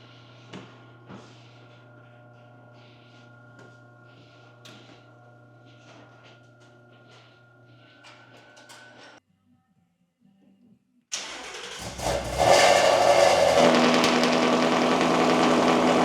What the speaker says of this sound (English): We can hit it with the cold start real quick.